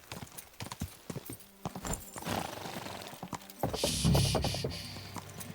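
Horse hooves clip-clopping in the medieval video game Kingdom Come: Deliverance II, a run of quick, close hoofbeats over rumbling game ambience, with a brief whinny and louder jingling bustle near the end.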